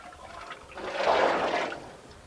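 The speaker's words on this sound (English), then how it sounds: "As soon as the water in the pot had boiled, it was emptied into the large wooden vat and left to cool." Boiled water from a pot poured into a large wooden vat during traditional poitin making, a swelling splash and gush that peaks midway and fades, heard alone.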